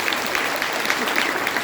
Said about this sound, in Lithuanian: Plojimais dar kartą padėkokime Kvietėtai Redai